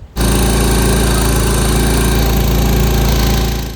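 A motorboat engine on the Ganges at Varanasi starts abruptly and runs as a loud, close, steady throbbing drone with a rapid rhythmic chug throughout.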